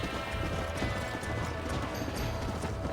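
Galloping horse hooves in Red Dead Redemption on Xbox One, a steady rapid clip-clop beat of a stallion chase running throughout under game sound, with no talk.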